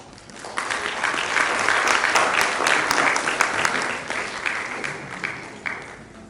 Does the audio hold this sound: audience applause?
yes